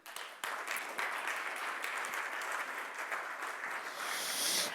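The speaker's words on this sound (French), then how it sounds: "Merci de l'applaudir, David Deyon." A conference audience at a round-table event gives steady, moderately loud applause for a speaker being introduced, the clapping continuing throughout.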